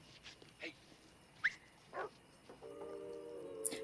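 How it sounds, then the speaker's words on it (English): A dog barks in a Lethal Weapon movie scene: a few short, sharp barks and yips spaced over a few seconds, with a steady tonal sound coming in near the end. "Oh, the dog."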